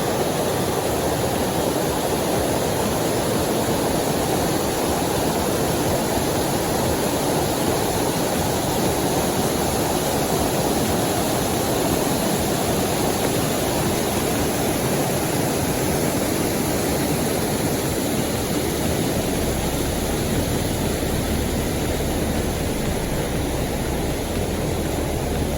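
Bayniragsak Falls roaring as a steady, dense rush of falling water, loud and unbroken from start to finish with no voices.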